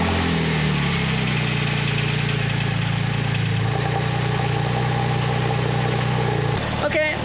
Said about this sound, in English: So now the only thing left to do is to start up the car